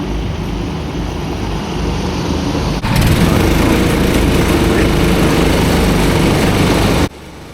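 Racing kart engines at a Brignoles kart race, a continuous buzzing high-revving drone that swells louder midway and then drops off abruptly near the end.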